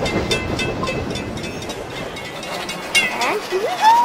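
A train running in a railway derailment video game, with a steady rolling rumble and clatter of wagons, then louder metallic squeals and a rising whine near the end, with a voice audible over it.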